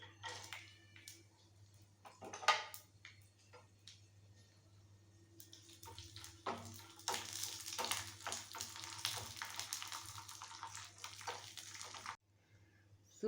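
A piece of cinnamon and chopped nuts fry in ghee for tempering a cottonseed milk payasam, a faint, close crackling sizzle that builds to a dense spatter midway and then cuts off near the end.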